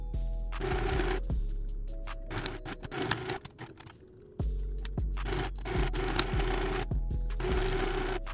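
A sewing machine stitching straps onto a satin silk slip dress, running in short bursts of rapid mechanical whirring and needle chatter, stopping and restarting several times, close up with no talking.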